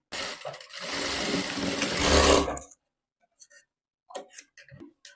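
Sewing machine running a double-stitched half-inch shoulder seam on a Sabyasachi-style designer blouse, a steady loud mechanical whir for over two seconds, then stopping, followed by a few faint clicks and handling noises.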